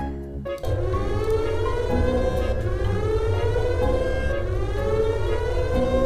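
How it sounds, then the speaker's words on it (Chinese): An alarm siren from the game That's Not My Neighbor starts after a brief pause, then wails loudly and steadily in a sustained, slightly wavering tone. "发现他是伪人的话，摁下警报按钮"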